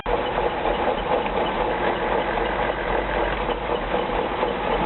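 A Citroën DS running with a steady grinding, whirring noise from its gearbox, close and continuous without letup, with no talk over it.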